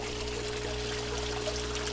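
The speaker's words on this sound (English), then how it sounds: "There's my water flow on that." Pumped water pours steadily into an aquaponics tank of tilapia and lettuce, a soft, continuous close-up trickle and splash with a low pump hum beneath it.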